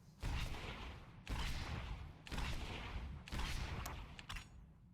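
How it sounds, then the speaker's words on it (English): The Series of Shots gunfire ability fires in the SWTOR video game as four rapid bursts, each about a second long and separated by brief gaps, crackling and fairly close. "Interrogation probe. Explosive probe. Series of shots."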